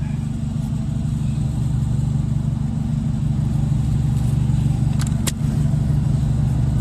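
A power sander fitted with 800 grit sandpaper works a machined wheel, giving a steady, close motor drone that hums evenly throughout, with a couple of brief higher scrapes near the end.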